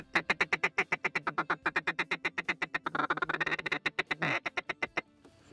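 A handheld duck call imitates a mallard hen's feed call: a rapid, rhythmic run of close, loud clucking quacks that speeds into a dense chatter, then ends in a few spaced notes.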